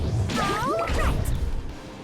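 A punch attack landing on a boss in the mobile game Outerplane, a single heavy smashing impact with a swishing sweep and bright ringing effects over a dense, loud game soundtrack.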